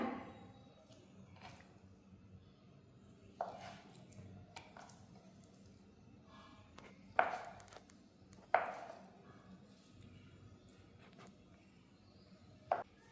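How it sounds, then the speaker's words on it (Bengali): Paneer cut into medium pieces on a board gives a handful of soft, separate knife thuds spaced a few seconds apart, quiet and close in an otherwise hushed room. "পনিরটা আমি একটু মিডিয়াম সাইজে কেটে নিচ্ছি, খুব বড় বড় করছি না।"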